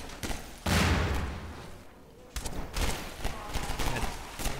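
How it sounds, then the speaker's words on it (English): Gunfire in Half-Life 2 plays inside a sewer level, with loud bursts of shots that echo and then die away, close and sharp. "where am I getting shot from?"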